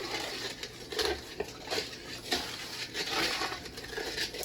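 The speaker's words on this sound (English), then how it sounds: "And I'll give it a little stir." A yeast mixture for fry bread is stirred in a bowl with a utensil, making faint, close scraping and clinking strokes in an irregular rhythm without speech.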